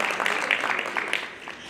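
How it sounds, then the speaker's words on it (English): Modest audience applause at an anniversary event, steady clapping from a small crowd for under two seconds with faint voices beneath. "Please, a round of applause for her."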